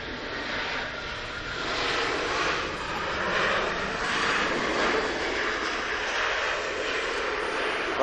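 Jet2 Airbus A321neo airliner landing at Manchester International Airport, a loud, steady roar that swells slightly and holds for several seconds.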